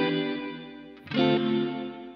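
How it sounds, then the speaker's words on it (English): A sustained guitar chord through a Source Audio Collider pedal's shimmer reverb, with a bright, high shimmering halo; a fresh strum midway swells the wash, which then slowly decays. "So you can hear that high-pitched shimmer in there."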